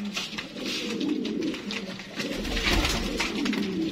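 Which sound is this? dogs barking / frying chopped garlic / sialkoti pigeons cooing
sialkoti pigeons cooing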